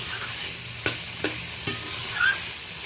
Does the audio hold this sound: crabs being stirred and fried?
yes